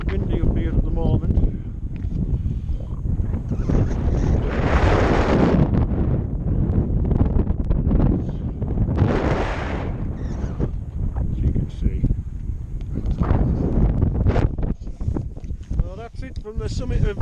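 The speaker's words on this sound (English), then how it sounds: "It's a bit windy up here at the moment." Strong, steady wind roars and buffets across the open mountain summit of Skiddaw, loud and close with gusty surges and rumbling microphone noise throughout.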